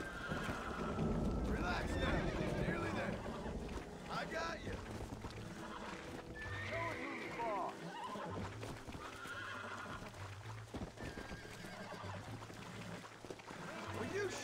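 Horses neighing and whinnying in the Red Dead Redemption video game, with hoof clip-clops and wind ambience, several calls spread across the scene, with a person talking over it.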